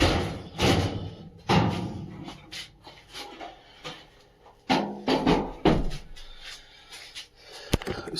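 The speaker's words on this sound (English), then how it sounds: "Then you can remove the door." Door being taken off a washer or dryer, a string of separate thumps, knocks and rubbing clunks at close range with pauses between them and a sharp click near the end.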